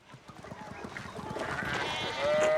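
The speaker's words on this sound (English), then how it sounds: "More sheep." Sheep in the 16th-century setting of the 2022 video game Pentiment bleat softly at a distance over outdoor ambience, the calls rising and overlapping toward the end.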